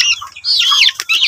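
Chickens and young chicks on a farm in the Philippines, being set down on the ground, cluck and peep loudly and close by in quick overlapping calls.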